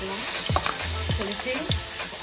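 Stuffing paste frying in hot oil in a pan for tandoori pomfret, a constant crackling sizzle broken by three rhythmic scraping strokes of a spatula, close by.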